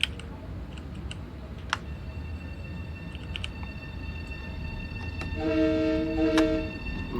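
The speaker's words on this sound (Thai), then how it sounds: "ฟังเสียงแตรเขาสิ" A train rumbles steadily with faint clicks in the game Train Sim World 2020, then its horn sounds in two chords near the end.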